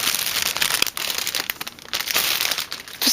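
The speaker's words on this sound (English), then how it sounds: "get her out of the clear plastic bag that she comes packaged in" A clear plastic packaging bag crinkles and rustles up close as a Madoka Magica Charlotte transforming plush toy is pulled free, a busy run of crisp crackles with brief pauses between handfuls.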